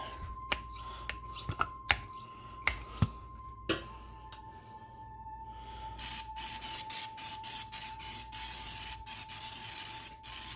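An oil spray bottle is pumped and sprayed for an air fryer: sharp clicks of pumping first, then a quick series of close, hissing spray bursts in a rhythmic run.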